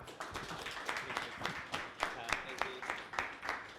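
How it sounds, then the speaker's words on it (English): Scattered, fairly faint clapping from a panel audience, individual claps audible as uneven taps over a few seconds rather than a full roar, with some background murmur. "round of applause, just to welcome Steve to our panel"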